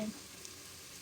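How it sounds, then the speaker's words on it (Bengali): Garlic paste frying in hot oil gives a soft, steady sizzle with fine crackling hiss, fairly faint and continuous, with no talking. "এখন হচ্ছে আমি রসুন পেস্ট দিয়ে দিব এক চামচ"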